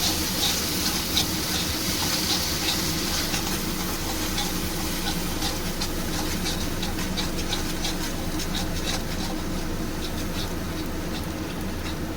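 A spiced potato and soybean curry with whisked yogurt, stirred in a hot pan, gives a steady, dense sizzle with a faint scraping texture. It stays even and fairly loud throughout, with no talking.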